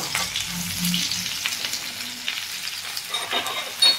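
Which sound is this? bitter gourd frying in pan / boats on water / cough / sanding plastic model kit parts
bitter gourd frying in pan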